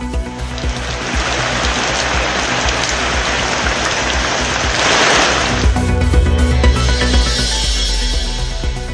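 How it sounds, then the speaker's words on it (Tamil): Heavy rain pours down in a dense, steady roar and swells louder partway through, with no talking. "மதுரை, விருதுநகர், சீர்காழி, நாமக்கல்லில் வெளுத்து வாங்கிய மழை."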